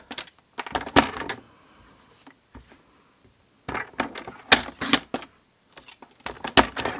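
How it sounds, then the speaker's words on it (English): A paper trimmer slicing long cardstock: sharp clicks and short scraping strokes come in irregular clusters with quiet gaps, close and alone without voices. "And then with my trimmer, normally I'd hand cut this"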